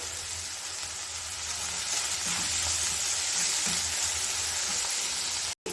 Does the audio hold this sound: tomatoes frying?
yes